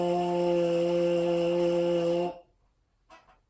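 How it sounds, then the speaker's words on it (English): Buzzing on a trombone mouthpiece alone, a steady bright held tone for about two seconds that cuts off abruptly, followed by a faint short breathy sound. "So now, if I want to buzz on the mouthpiece"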